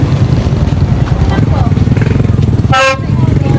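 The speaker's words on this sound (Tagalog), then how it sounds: "Ito yung horn." A short electronic e-bike horn beep sounds once near the end over a loud, rumbling engine-like background, with voices faintly underneath.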